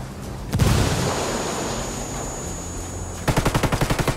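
A frag grenade goes off in a shooter game with a loud booming blast and rumbling decay, then a rapid rhythmic burst of automatic gunfire closes out the moment.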